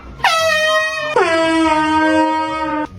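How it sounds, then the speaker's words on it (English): Air horn blasted as a prank, two loud sustained blaring blasts back to back, close and harsh, with no talking. "Scaring my wife with an air horn all weekend."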